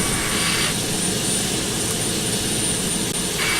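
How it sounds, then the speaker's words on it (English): Jet engine number 2 of a CS 767 airliner spooling up in the FSX flight simulator, a steady loud broadband roar with a rising whine held throughout. "we will start with engine number 2"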